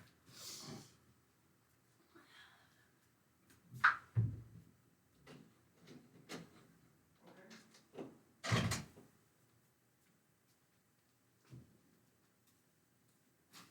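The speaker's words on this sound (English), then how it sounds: "Let me close this door." An indoor door is pushed shut nearby with a few light knocks and shuffles, then a firm closing thud, followed by quiet; the sounds are faint and scattered across the clip.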